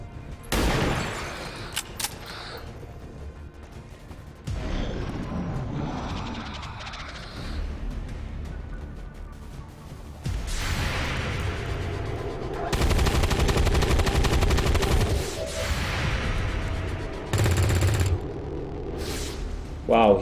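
Gunshots in the tactical game XCOM 2 Covert Ops, several separate sharp shots and bursts of automatic fire spread across the stretch, some with mechanical clatter and whooshes, with a voice talking between them.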